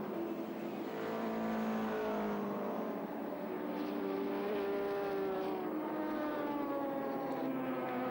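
Touring cars racing at Sandown in the 1984 Australian Touring Car Championship, engines rising in pitch as they accelerate down the straight and shift up, a continuous layered roar heard at moderate distance.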